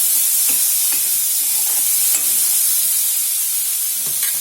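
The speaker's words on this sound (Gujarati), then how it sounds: "હવે આપણે વટાણા લેશું. એને બરાબર સાંતળી નાખશું." Peas, corn kernels and onion sauté in a hot pan, giving a loud, continuous sizzle close up with a few soft stirring scrapes.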